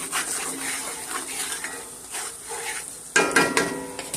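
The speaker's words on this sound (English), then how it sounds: "season that butter up with the garlic clove" A garlic clove cooking in butter in a pan for beef stroganoff, with a soft, close sizzle, light stirring and a clatter of utensil against the pan near the end, no talk.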